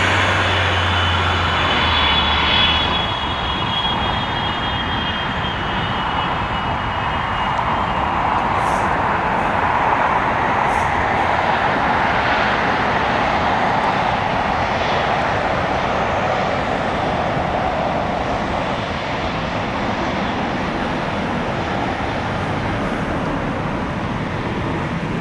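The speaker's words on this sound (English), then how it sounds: "We got a China cargo 777 freighter." A China Cargo Boeing 777 freighter arrives on runway 25 left, a loud sustained jet engine roar rising and holding steadily over a long stretch.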